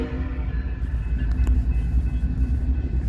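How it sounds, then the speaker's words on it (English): A stack train passes on the Sioux City subdivision, giving a continuous low rumble of rolling wagons at moderate distance, steady throughout with a faint brief clank in the middle. "Pulling this stack train from Fremont south on the Sioux City sub."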